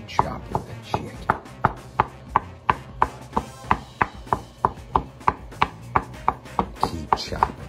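A knife chops rotisserie chicken steadily on a cutting board, close up, with quick, evenly spaced strokes that keep a brisk rhythm throughout.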